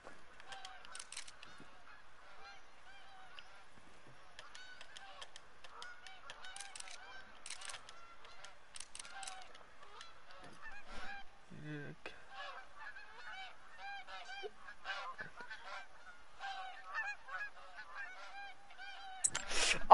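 Geese honk repeatedly and steadily in the hunting game Call of the Wild, a busy flock of overlapping calls at moderate distance, with a louder burst at the very end.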